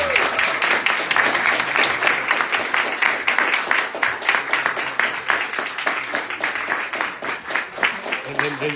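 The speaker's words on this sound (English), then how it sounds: "Can we give our artists a round of applause" Audience applause for artists at a gallery talk, a steady, dense round of clapping from a crowd lasting the whole stretch, with scattered voices underneath.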